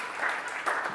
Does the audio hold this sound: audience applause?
yes